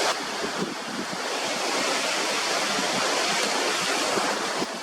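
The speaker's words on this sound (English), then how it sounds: "it's windy as heck" Strong wind roars steadily at a sunny waterfront, buffeting the microphone in a dense, unbroken rush mixed with the wash of water along the coast.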